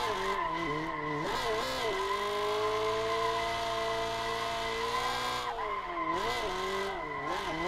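Tires squeal and skid continuously over a droning engine in the racing game Assetto, the screech bending up and down through repeated drift slides.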